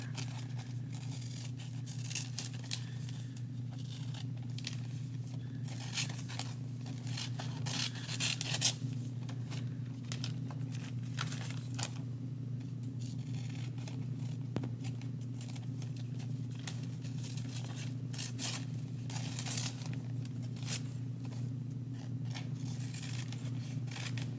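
Scissors cutting out a paper shape for a winter cardinal craft, many quick close snips and rustles spread over a steady low hum, with no voices.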